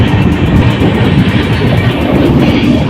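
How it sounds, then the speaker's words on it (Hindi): Sikkim Mahananda Express pulling out of Thakurganj station after a two-minute halt: a steady, loud rumble of wheels and carriages with faint clickety-clack, heard from on board with no talk. "2 मिनट हॉल्ट के बाद हमारी ट्रेन का डिपार्चर हो चुका है ठाकुरगंज रेलवे स्टेशन से।"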